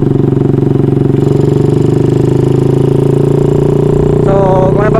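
Honda Wave 100 motorcycle fitted with a 53mm bore kit and stage 2 cams, revving loud and close with a rapid buzzing beat, rising pitch toward the end.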